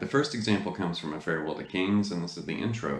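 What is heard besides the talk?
No distinct noise like a dog, phone or traffic.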